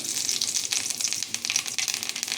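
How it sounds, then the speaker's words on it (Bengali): White cumin seeds crackling in a small amount of hot oil, a dense continuous high hiss with fine popping, close and steady, with no voices. "এবার ওই তেলের মধ্যে খুব সামান্য পরিমাণের কারণে সাদা জিরে ফোড়ন দিয়ে দিচ্ছি।"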